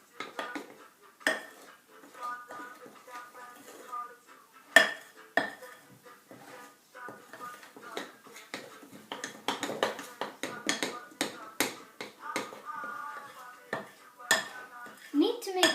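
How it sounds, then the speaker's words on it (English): Raspberry loaf batter being mixed in a bowl, with intermittent clinks and scrapes of a utensil against the bowl, close and sporadic with quiet gaps between bursts. "Then just add in the second one. Give that a mix."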